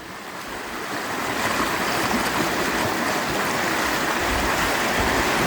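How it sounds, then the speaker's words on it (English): Continuous bubbling, gurgling rush of a natural mud pot boiling, steady and fairly loud throughout with no voices. "over there is a natural mud pot that's boiling quite a bit"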